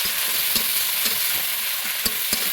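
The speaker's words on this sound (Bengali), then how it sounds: "এখন পেঁয়াজটা দিয়ে দিব আলু ভাজার তেলটা ভিতরে। পেঁয়াজটা একটু হালকা একটু ভেজে নেব," Sliced onions fry in the hot oil left over from frying potatoes for a Bengali chicken curry, giving off a steady close-up sizzle broken by a few sharp clicks from stirring.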